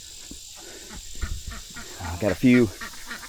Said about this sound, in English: geese, 2 geese and 4 ducks over there in my old chicken coop